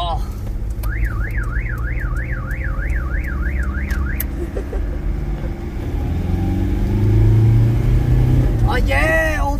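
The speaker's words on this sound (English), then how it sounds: "So we'll go around the block a bit so I can give her a few revs." An old car's engine rumbles and revs up, rising in the second half, under a loud wailing car alarm at the start, with people talking and cheering throughout.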